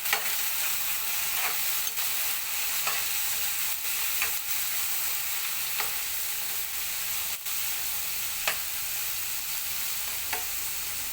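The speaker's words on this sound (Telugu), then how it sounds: "ఇప్పుడు ఇవి కలుపుకుందామండి ఆయిల్లో కలిసేలాగా" Eggplant and chana dal curry being stirred in hot oil gives a continuous even sizzle, with regular spoon scrapes against the pan every second or two and no voices.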